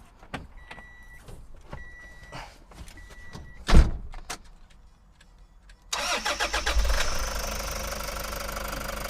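A 2015 Toyota Hiace with a jump pack attached: dash chimes and clicks, a loud thump, then the engine cranks and catches into a steady, close idle.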